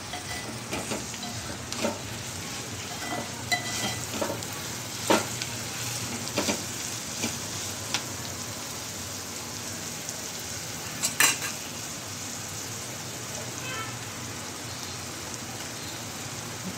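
Green beans frying in a little oil in a covered pan, giving a steady soft sizzle with occasional utensil clinks and stirring scrapes, close and moderately quiet throughout.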